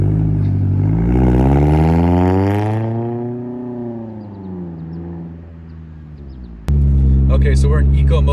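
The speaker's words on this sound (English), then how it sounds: "this is me taking off in eco mode" A Scion car pulls away from a standstill in eco throttle mode with a HIKEIT X9 throttle controller fitted, its engine note rising smoothly in pitch, then easing back down, close and steady before a louder noisy stretch at the end.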